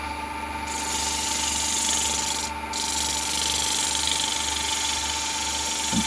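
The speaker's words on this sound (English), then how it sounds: "So sanding needs to be gentle, fairly high speed." A wooden scoop being sanded at fairly high speed, a steady close abrasive whirring rub that runs continuously, with a couple of brief dips in tone.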